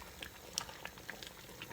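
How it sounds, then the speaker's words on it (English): Homemade fruit mincemeat boiling in a pot gives soft, scattered bubbling pops at low level, with a few sharper blips and no talking. "Okay, so we come to the boil."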